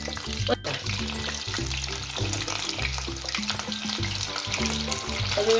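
Chicken lollipops deep-frying in oil over a medium gas flame, a steady crackling sizzle with frequent stirring clatter, with background music running underneath throughout.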